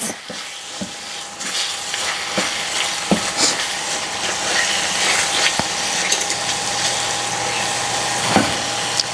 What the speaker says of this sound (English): And I'll be doing the mixing on a low, not so high heat